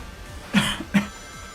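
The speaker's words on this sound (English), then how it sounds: "Sorry about the coughing." A person coughs twice in quick succession, two short, sharp, close bursts about half a second apart against a quiet background hum.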